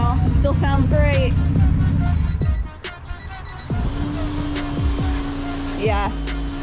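Car engine on two-step launch control, loud and close, buzzing in a held rev with rapid stuttering pops, dropping off midway then returning at a steadier drone, with voices talking nearby.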